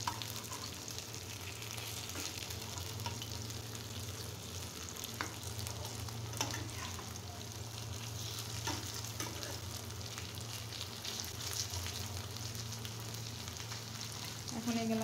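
Pakoras made from onion flowers fry crisp in a pan, giving a continuous moderate sizzle with occasional pops and stirring scrapes, over a low steady hum and with no talk.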